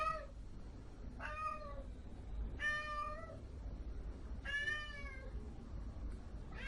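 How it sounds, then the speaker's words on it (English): A house cat meows four times in slow succession, each call clear, drawn out and near, with faint room noise and no talking between them. "This cat is so jealous. Always meowing as soon as I get on this cam."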